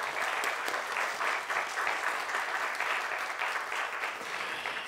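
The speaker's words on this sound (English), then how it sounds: "please join me to give another big round of applause to Professor Da Silva" A lecture audience applauds Professor Da Silva, a dense, steady round of clapping filling the hall at full strength from start to finish with no voices over it.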